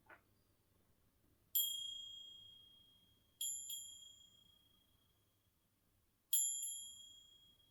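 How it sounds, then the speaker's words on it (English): A small bell struck three separate times to open a reading, each a bright, clear ding with a long ringing decay, heard alone in a quiet room. "I'm going to ring the bell now, so watch your ears just to open up this reading for us."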